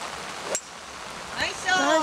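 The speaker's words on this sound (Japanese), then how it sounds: "雨がやばい。 雨が。" Heavy rain falls on a golf course in a constant broadband hiss beneath voices talking nearby.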